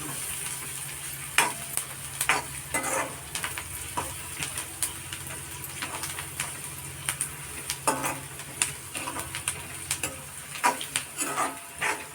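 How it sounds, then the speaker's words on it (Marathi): Asafoetida sizzles in hot oil for tempering with a crackling hiss, while a spoon repeatedly scrapes and taps against the pan, close by with a low background hum. "आणि हिंग टाकलाय फोडणीला"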